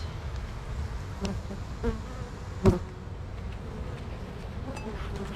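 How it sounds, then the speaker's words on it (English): A dense, continuous hum of many honey bees buzzing nearby, with a few brief knocks and clicks breaking through. "Just because of how many bees there are"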